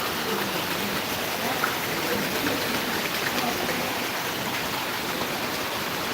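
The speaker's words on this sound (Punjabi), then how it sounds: "ਭਾਰੀ ਬਾਰਿਸ਼ ਹੋ ਰਹੀ ਹੈ" Heavy rain pours down steadily on a village in Mansa district, Punjab, a dense continuous hiss with a broad roar of water, loud and close, with no voices.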